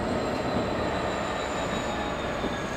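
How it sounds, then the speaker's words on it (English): A pair of Class 66 diesel locomotives pass near Leeds, a continuous broadband rumble and roar of engines and rolling wheels, steady and fairly loud for the whole stretch with no talk. "That couple of Class 66s, I've just got those coming out of Leeds and have just gone beyond this bridge now"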